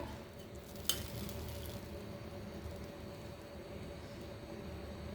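Potol (pointed gourd) curry broth simmering in a pan, giving a faint, steady bubbling hiss with a single sharp clink near the start.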